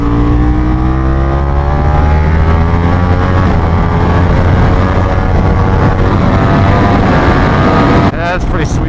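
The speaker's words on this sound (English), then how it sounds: "I heard motorcycle." A motorcycle roars loudly nearby, its engine pitch sweeping steadily as it races past under wind noise, then cuts abruptly near the end.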